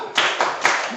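Children clapping out the 'tepuk mantap' rhythm in a classroom: three quick clap bursts in about a second, close and fairly loud, with voices mixed in.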